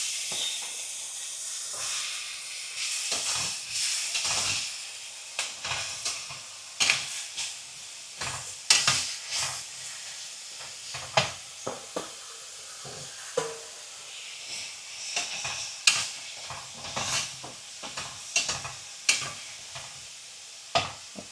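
Bitter gourd pieces sizzle and hiss in a hot pan, the frying rising and falling in uneven bursts as they are stirred, fairly close and with no voices.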